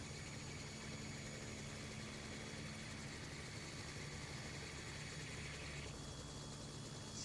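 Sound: helicopter engine starting and rotor spinning up, VR helicopter simulator game

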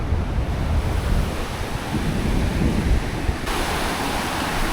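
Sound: ocean waves crashing on the beach

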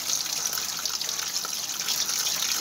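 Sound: tap water rinsing macaroni in a strainer

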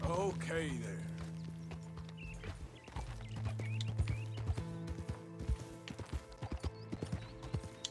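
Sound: horse hooves in Red Dead Redemption 2 video game

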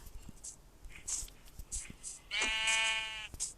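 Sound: sheep bleating in Minecraft video game

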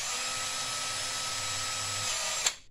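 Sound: drilling holes in car battery

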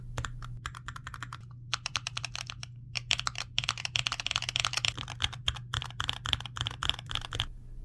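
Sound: LTC crystal red mechanical switches pressed on all-button controller

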